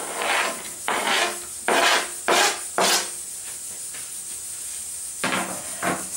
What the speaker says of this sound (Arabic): حطي فيه نص صدر تاع الدجاج، قطعي هكذا وحطيه لداخل مع بصلة صغيرة.